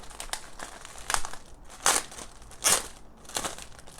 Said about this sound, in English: it is wrapped in this plastic. Let's see, some tape.